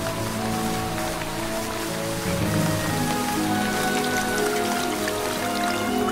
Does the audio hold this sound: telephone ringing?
no